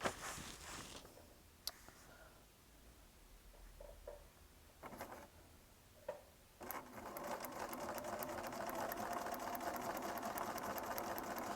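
A sewing machine stitches steadily for paper piecing, starting after a few short clicks and bumps as the fabric is positioned and the presser foot lowered, then running continuously and close for the last five seconds.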